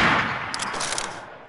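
A loud gunshot burst in a video game, close and harsh, with a few crackling follow-up reports that trail off over a second.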